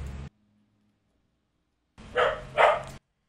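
A dog barks twice in quick succession, loud and close, after a brief silent pause in an indoor room.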